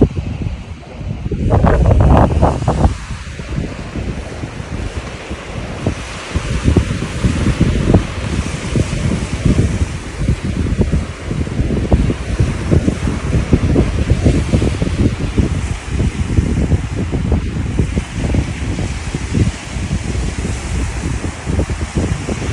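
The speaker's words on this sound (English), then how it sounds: "I love hearing the sound of the sea." Steady wash of surf rolling onto a shore, with gusts of wind buffeting the microphone throughout; no voices.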